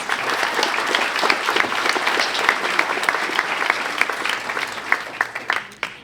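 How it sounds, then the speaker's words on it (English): Audience applause at a Charlotte Preparatory School graduation ceremony in 2024: a large crowd claps steadily and evenly for about six seconds, dense and sustained, with a few sharper claps standing out near the end. "Please join me in a round of applause."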